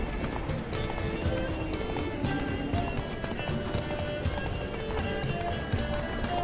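A horse gallops in The Witcher 3 with a fast, rolling run of hoofbeats, loud and close, holding steady throughout. A faint whinny comes through, and there is light background game sound.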